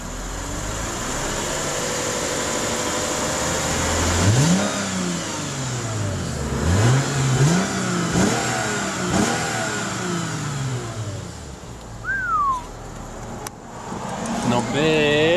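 A car engine revs repeatedly to charge the alternator, rising and falling in several climbing sweeps over a steady running drone, fairly loud and close, with a voice talking over it.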